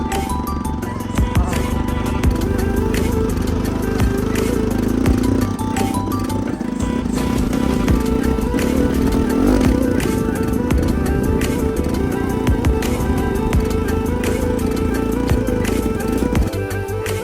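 Continuous engine drone of a motorcycle being ridden in upper Manang toward Ice Lake, with constant rattling and bumps over rough ground, loud and close throughout.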